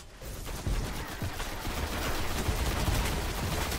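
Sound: gunfire from Destiny video game

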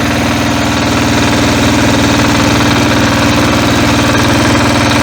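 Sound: Motor Sich MB-9DE walk-behind tractor engine running in gear

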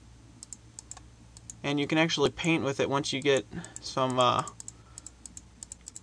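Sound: computer mouse clicking

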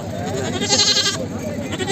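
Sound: Barbari breed goats bleating at a goat market

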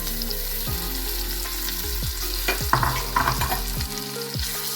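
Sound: dates frying in ghee in a hot kadhai

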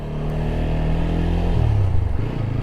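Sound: new motorcycle engine

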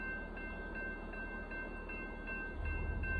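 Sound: northbound Union Pacific gravel and hopper car train passing

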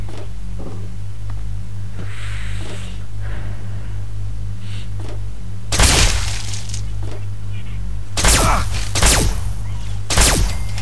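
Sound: gunshots in the video game Fallout 3

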